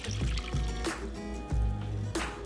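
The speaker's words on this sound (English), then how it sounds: "now that the onions are ready, you want to add 8 cups of beef broth" Beef broth being poured into a pot of deep brown caramelized onions for French onion soup, a steady liquid pour with intermittent splashy bursts, close and fairly loud.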